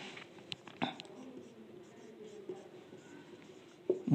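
Pen scratching across paper while notes are handwritten, a soft steady scrawl with a few sharper taps and strokes, faint and close, with light background hiss.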